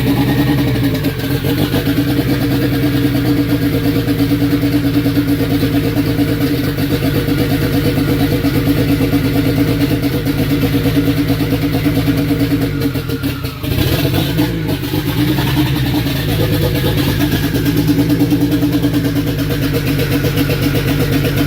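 Car engine idling steadily and loud after starting, with a continuous low rumble and exhaust drone throughout, slight dips in the steady tone, no talking, after a stainless steel exhaust manifold was welded with flux core.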